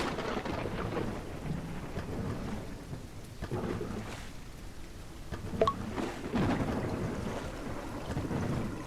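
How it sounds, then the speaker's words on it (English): Rain and thunder in the video game DrainSim, a continuous hiss of rainfall with low rolling rumbles of thunder throughout and a sharper crack partway through, with no talking. "I mean, it's raining"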